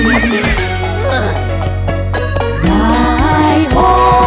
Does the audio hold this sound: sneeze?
no